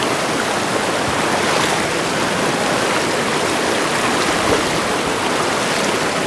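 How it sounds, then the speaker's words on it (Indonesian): Rushing river water on a route where the only access means crossing the stream on foot, a steady loud broadband flow that fills the whole clip without a break and with no voices over it. "Harus melewati aliran sungai seperti ini."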